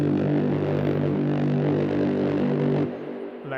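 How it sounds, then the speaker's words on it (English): A steady, buzzy brass-like techno synth horn holds a rich chord, bright and full, then drops in level near the end. "So you take your classic brassy horns techno sound"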